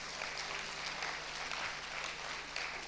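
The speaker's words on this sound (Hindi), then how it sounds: "ताली बजाओ ना" A hall audience applauds at an evening spiritual class, a dense, even wash of clapping sustained throughout at fairly high volume, with no voices standing out.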